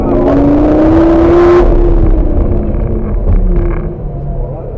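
A Lamborghini engine accelerates under throttle around a corner, a loud close droning roar with rising pitch that then eases off, with a voice speaking over it.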